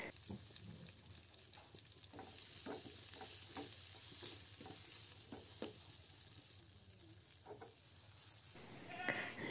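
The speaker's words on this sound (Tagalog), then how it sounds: "At ngayon ay maggigisa na tayo." Sliced white onion sautéing in oil in a pan, a steady soft sizzle with repeated scraping and stirring knocks, close up and with no talking.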